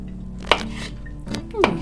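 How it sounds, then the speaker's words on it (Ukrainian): A knife chopping ingredients for a herring salad on a board, three sharp close cuts spaced apart against a quiet low hum. "Тепер я їх поріжу дрібненькими шматочками."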